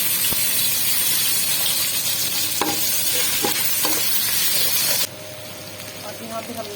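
Onions and ginger paste frying in a pot for chicken biryani, a loud, dense sizzle with stirring knocks and scrapes that drops somewhat in level near the end.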